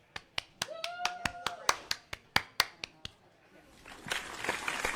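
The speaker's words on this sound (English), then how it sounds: "Can we get a round of applause?" A small group clapping for a guest from a ghost-hunting team joining a paranormal show, sharp separate claps in a loose rhythm, with a voice briefly rising over them before a burst of noise at the end.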